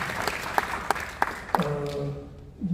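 Audience applause at a policy forum on fast-tracking reconstruction of first-generation new towns: a short burst of scattered claps that quickly gives way to a voice speaking.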